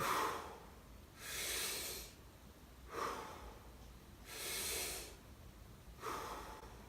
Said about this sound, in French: Vous inspirez complètement, vous gonflez le ventre, la poitrine et on expire.